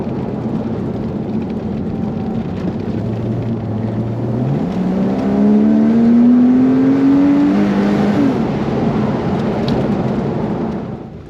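A 2007 Porsche Boxster S with a 300-horsepower V6 accelerates on a country road, its engine note climbing steadily through the revs in a loud, continuous roar heard from inside the car, with no talking.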